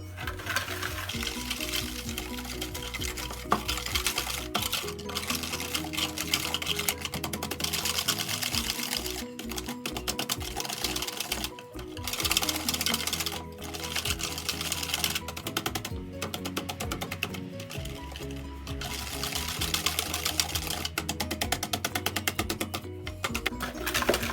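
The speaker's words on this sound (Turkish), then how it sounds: "yumurta ve şekeri iyice çırpacağım" Eggs and sugar for a walnut cake beaten in a bowl with an electric mixer, giving a continuous, close buzzing whir that changes pitch as the beaters shift, running steadily with brief pauses.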